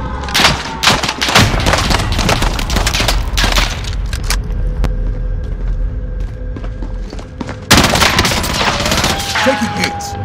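Rapid gunfire and bursts of automatic weapon fire from a shooter video game, loud and dense throughout, with booms, footstep-like thuds and in-game voice callouts mixed in.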